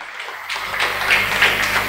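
Audience clapping to welcome guests at a ceremony marking the birth anniversary of freedom fighter Sane Guruji, a dense rising patter of many hands filling the hall for a couple of seconds with no talk.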